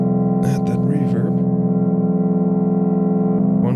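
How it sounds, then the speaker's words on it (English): A sustained Erica Synths Perkons HD-01 drone with layered steady tones, brief noisy bursts near the start, and a lingering reverberant wash from added reverb holding the chord. "And now I'm going to add that reverb."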